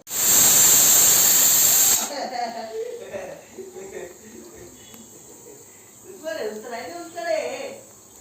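A pressure cooker whistles while Hyderabad-style mutton curry cooks: a loud, steady burst of hissing steam for about two seconds that cuts off abruptly, followed by close conversational voices in a home kitchen.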